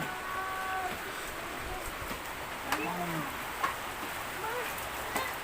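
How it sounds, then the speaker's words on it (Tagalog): Heavy rain pours down outdoors as a steady dense hiss, with a few louder splashes and faint scattered sounds from nearby underneath. "ang lakas na naman po ng ulan"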